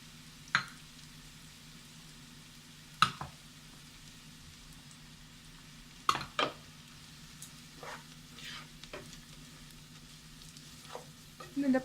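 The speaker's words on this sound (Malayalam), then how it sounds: "ഇതിൻ്റെ പച്ചമണം മാറുന്നവരെ വഴറ്റണം." Masala powders with curry leaves sautéing in a pan for Kerala-style beef fry, a quiet steady sizzle punctuated by a few sharp scraping stirs, with a low hum in the background.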